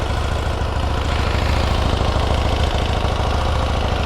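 A KTM 890 Duke R motorcycle engine idles after warming up, giving a steady, close, continuous low rumble with fine rapid pulsing that holds even throughout.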